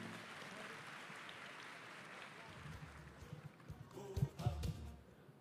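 An audience at a university evening event welcomes its president with steady, distant clapping that swells louder toward the end, a soft room roar underneath.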